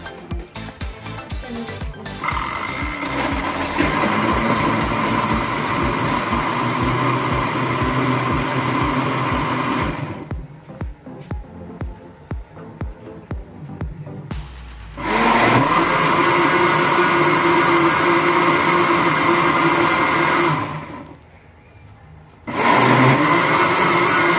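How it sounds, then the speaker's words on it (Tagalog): A blender roars loudly in long bursts blending an avocado mixture, stopping and sputtering in between, then running again at full power before a brief pause and restart. "I-blender lang natin siya."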